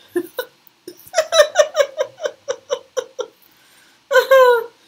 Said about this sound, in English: Oh, I got hiccups.